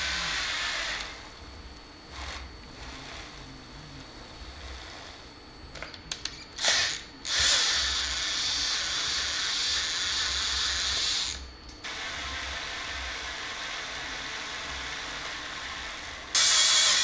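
A slow drill runs into an explosion-proof bug-eye LED emergency exit sign, giving a steady whirring grind broken by brief stops and restarts, close and fairly loud with no talk.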